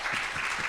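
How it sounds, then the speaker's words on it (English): Brief burst of town hall audience applause, steady dense clapping at moderate level with no pauses. "Yes, that deserves applause."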